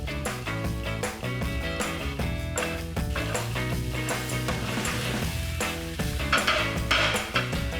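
Beef with caramelised onion and flour cooking in a pan for a filo pie, a constant close sizzle with repeated scraping and stirring strokes against the pan bottom.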